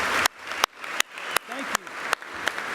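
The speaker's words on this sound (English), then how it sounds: "how about a round of applause for these sponsors?" At a membership general meeting, an audience applauds the sponsors with loud, sharp claps that land in an even rhythm about three times a second. A voice can be heard faintly between the claps.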